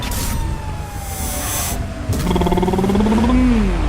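Fire truck siren from an M1142 Tactical Fire Fighting Truck mod in GTA 5, a steady wailing tone that sweeps downward, then a louder warbling siren cutting in partway through over engine rumble.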